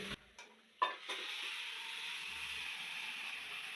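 A few soft clatters and a thump, then a steady hissing sizzle of beef and masala cooking in a pan, close and continuous.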